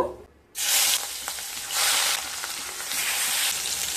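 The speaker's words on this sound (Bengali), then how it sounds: "এবার মাছগুলো ভেজে নেব।" Katla fish pieces frying in hot mustard oil in a kadai, a loud steady sizzle bursting in after a brief quiet moment and crackling on with slight swells, no voices.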